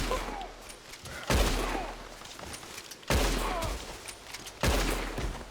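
Gunfire in Red Dead Redemption 2: three loud, sharp shots about 1.5 seconds apart, each with a long echoing tail, against quiet outdoor ambience.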